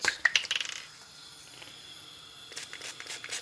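Short hissing bursts of Fry Light cooking spray into a frying pan, quiet and close, a few quick puffs at the start and another brief spray near the end in a quiet kitchen.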